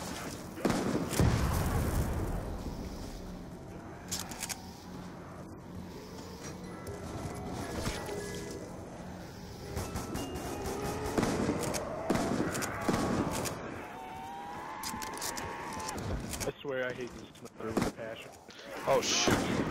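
Black Ops 2 zombies gunfire, with bursts of shots and thudding impacts that build over a busy game soundtrack, while a player talks throughout.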